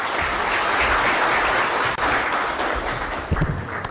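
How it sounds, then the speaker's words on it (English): Loud, steady applause fills a hall at the launch of an electoral commission's post-election evaluation report for the August 9 general election in Kenya, sustained for several seconds with a brief dip near the middle. "a better round of applause for Bina Maseno."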